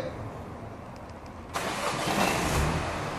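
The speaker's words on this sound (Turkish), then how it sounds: "Çalıştırın arabayı." A Mini Cooper Countryman's engine cranks briefly and catches about halfway through, then settles into a steady, close idle after a few soft clicks in a quiet garage.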